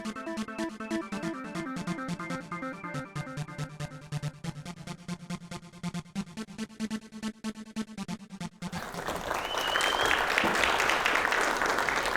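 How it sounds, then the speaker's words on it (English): Music plays for about nine seconds, then an audience bursts into applause at the start of a Space 2.0 panel event, a dense steady clapping that holds loud to the end. "Thank you for your round of applause."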